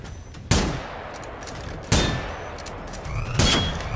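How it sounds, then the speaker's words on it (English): In the video game Generation Zero, loud gunshots ring out three times at an even pace, each one booming and then trailing off into a reverberant tail. No one speaks. "Let me shoot."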